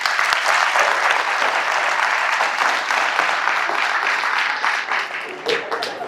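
Dense, sustained applause fills a comedy show hall, a continuous roar of many hands clapping with some crowd voices underneath.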